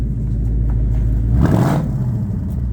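Ford Mustang Dark Horse V8 on its factory exhaust, idling with a deep, loud rumble up close, then a short blip of gas swells the revs midway before settling back to idle.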